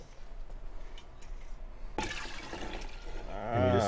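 Half and half creamer mixed with cornstarch is poured into a pot of beer cheese soup. After a quiet start, a soft liquid splashing begins halfway through and continues, growing slightly louder.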